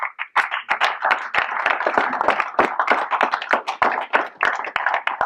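A roomful of guests claps steadily at a high school wrestling post-season awards banquet. The applause is dense and close, with sharp individual hand claps standing out over five seconds, and no voices over it.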